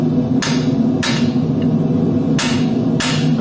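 A cross pein hammer strikes hot metal to draw out a clip at the forge: four sharp ringing blows spaced irregularly over a steady background hum, close and loud, with no talking.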